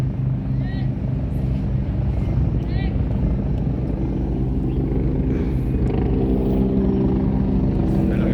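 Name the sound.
helicopter flying overhead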